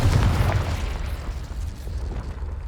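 Loud, deep rumbling blast from the Confringo fire spell in Hogwarts Legacy, a heavy low-end boom that fades slowly into a lingering roar.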